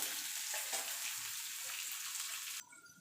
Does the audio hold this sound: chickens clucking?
no